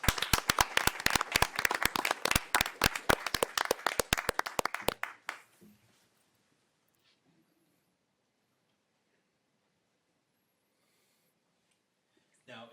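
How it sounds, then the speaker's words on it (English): A small audience at a mayor and council meeting claps for several seconds, individual claps clearly separable and close, then it stops abruptly, leaving near silence before a faint sound at the very end. "let's give our friends at Liberty's Promise a great big round of applause."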